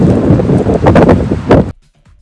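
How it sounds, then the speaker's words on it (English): Loud wind buffeting an iPad mini 6th generation microphone outdoors with gusty rumbling bursts, then cutting off abruptly to near silence. "It's windy out"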